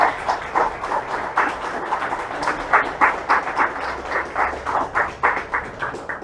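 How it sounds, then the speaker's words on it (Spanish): A church congregation claps steadily in time at the close of a Spanish-language service, a brisk rhythmic patter of hands at a moderate distance with no talking over it. "Dale un aplauso a Jesús."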